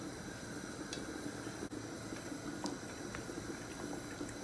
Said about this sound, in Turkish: Yemeğimiz kaynadı.